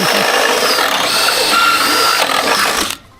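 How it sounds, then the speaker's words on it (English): A power drill spins in reverse, a loud, steady close whine lasting about three seconds before winding down and stopping. "with the drill going backwards"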